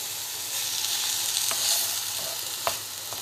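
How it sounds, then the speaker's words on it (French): Onions fry in a pan on a domestic stove, a steady close sizzle with a soft crackle throughout and a couple of sharp spatters popping through the hiss. "les oignons sont en train de frire"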